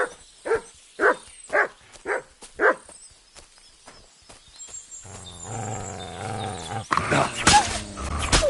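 Wolves in Kingdom Come: Deliverance II give a series of six or seven rhythmic barking growls at close range, followed by a lull and then a denser snarling, rumbling burst of game sound.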